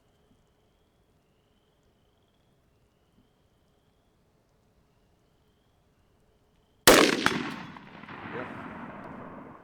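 Single loud rifle shot while zeroing a Sightmark Core Shot A-Spec sight at 36 yards, a sharp crack after near silence followed by a decaying echo.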